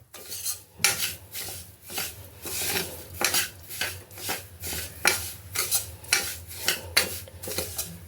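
Coarse semolina stirred and roasted in four spoons of ghee in a pan, heard as repeated close scraping and clinking of a spoon against metal in a steady rhythm, with a faint sizzle underneath and no voices.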